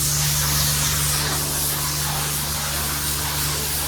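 Pressure-washer water spray hisses steadily and loudly against a Mazda 2 during an outdoor car wash, a continuous broadband rush with a low motor hum beneath, no pauses.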